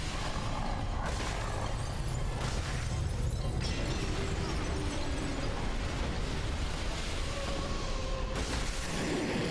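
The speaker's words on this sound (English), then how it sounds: "Uh-oh, explosion. Whoops." A boss-fight explosion in Dark Souls Remastered, against Seath the Scaleless, roars as a dense, sustained blast with crackling debris that holds at a steady loudness throughout, with no talk over it.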